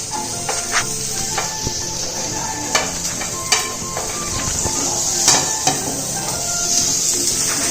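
Garlic fries in butter in a pan with a steady bright sizzle, broken by occasional clicks and knocks of a utensil.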